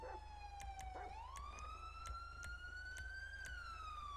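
An ambulance siren in the police video game LSPDFR wails steadily with a rising pitch sweep, loud and continuous over a low engine drone, broken by short sharp clicks.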